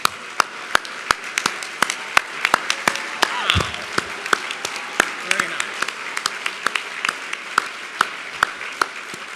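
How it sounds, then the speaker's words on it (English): Scattered, sparse clapping from a gathered audience at a philanthropy awards event honoring its 2014 honorees, with distinct individual claps ringing out over a murmur of voices and some talk. "please stand right now so we can applaud you"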